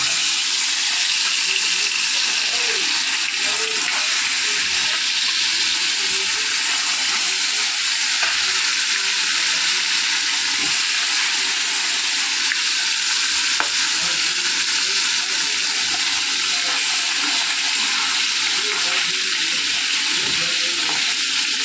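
Fish fry in a pan with a loud, steady sizzle that crackles and hisses without a break, with scattered pops and no talking.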